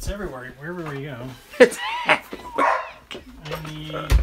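A pet dog barks and whimpers indoors during a metal tumbler sandblasting session, with several sharp yips and whines mixed in and close, ongoing conversation from people in the room.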